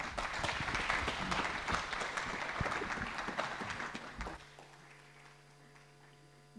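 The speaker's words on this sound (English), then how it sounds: "Let's give them another warm round of applause." An audience applauds after a session at a learning event, sustained clapping that fades out after several seconds into a quiet hum.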